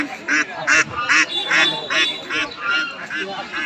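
Ducks crowded at a rural poultry market in Haluaghat, Mymensingh, quacking in a steady run of repeated bursts close by while someone talks over them.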